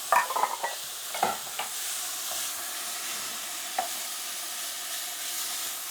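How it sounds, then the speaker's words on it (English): Frozen peas hiss in a hot pan with garlic, a soft steady sizzle up close, with a cluster of spoon scrapes and taps early on and a few more stirring knocks later, no talking. "120 grams of frozen peas. Literally just pop them into the pan."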